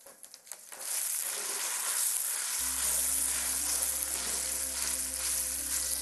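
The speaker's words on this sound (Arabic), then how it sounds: "نيجي على طول عندنا فوق البصله والثوم نحط البطاطا" Potatoes dropped into a pan over onion and garlic start frying, a sudden loud sizzle that settles into a steady crackle with a low hum underneath, close and without talk.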